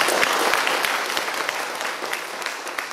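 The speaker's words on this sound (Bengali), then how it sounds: "আমরা সবাই মিলে একটু আমাদের এই পারফরমারদের জন্য একটা হাততালি দিতে চাই" Audience applause for the stage performers after a drama production, a dense steady wash of clapping hands at close range throughout, with a few louder individual claps standing out.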